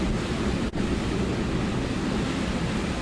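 Hurricane Michael's storm surge on the Florida Panhandle, a loud, dense, unbroken roar of churning water and waves mixed with heavy wind buffeting, close and continuous.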